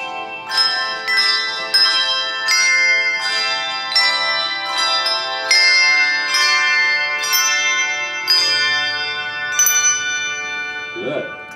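Handbell choir rehearsing for a handbell concert, ringing a sequence of bright, resonant bell notes in steady rhythm with long overlapping decay, clear and close, ending with a soft low thud.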